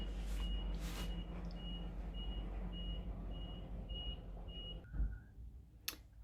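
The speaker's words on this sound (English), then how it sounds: "Sorry about the truck noise." Reversing beeps from a truck outside, a steady series of evenly spaced high electronic tones repeating about every half second, heard at moderate distance over a low background rumble and handling noises.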